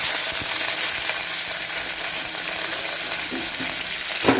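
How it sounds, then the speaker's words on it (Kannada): Crushed garlic, curry leaves and coriander hit hot oil already holding cumin and mustard seeds for a tempering. They set off a loud, continuous frying sizzle with a close, bright hiss. "ಈಗ ಒಗ್ಗರಣೆದಾಗ ಹಾಕ್ತಾರೆ"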